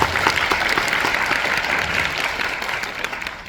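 Audience at a Korean author talk applauds steadily, a dense wash of many hands clapping that holds for several seconds and then begins to thin out.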